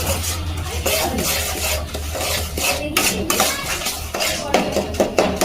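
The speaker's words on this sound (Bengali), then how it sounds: "গ্যাসের আঁচটা রেখে ভালো করে গুড়টাকে গলিয়ে নিচ্ছি" Jaggery being stirred as it melts in a metal pan over a gas flame, with a steady loud scraping and rasping that continues throughout and no speech.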